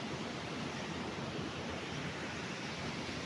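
A river at the edge of a five-hectare farm lot in Nagcarlan, Laguna rushes with a steady, dense, broadband hiss, continuous and even throughout, with no voices.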